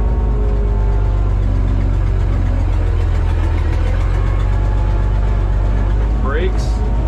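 A Minneapolis Moline A4T tractor engine drones steadily and loudly while driving in 5th low gear, a constant low rumble with a brief high squeal near the end.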